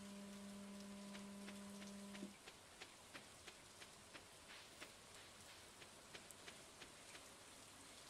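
Steady rain falls during a thunderstorm in Stardew Valley, a soft constant hiss with faint scattered drop ticks; a brief low game tone sounds at the start, and no one speaks.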